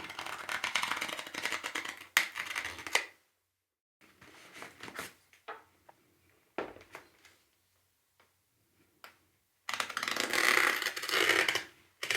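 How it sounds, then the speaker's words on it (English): Packaging tape being pulled and torn off a large mail-order record package, with bursts of ripping and scraping separated by quiet pauses and a few softer rustles, close and fairly loud. "start opening this packaging tape here"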